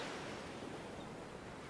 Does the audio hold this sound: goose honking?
no